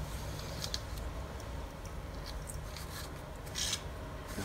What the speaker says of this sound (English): Now some pepper. This is how you grind it.